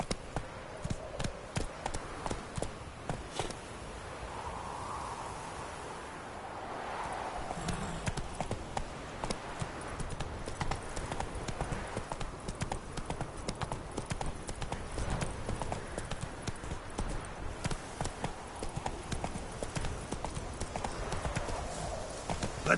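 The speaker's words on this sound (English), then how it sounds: "Run, Roach." A horse gallops in The Witcher 3, its hooves beating a fast, steady clip-clop rhythm close up throughout, with a brief faint whinny-like sound early on.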